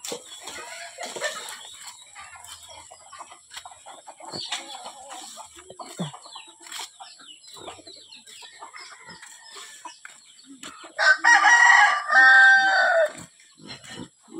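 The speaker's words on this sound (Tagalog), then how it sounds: "Daming manok." Chickens cluck and chatter on and off nearby, followed by a loud rooster crow close by near the end.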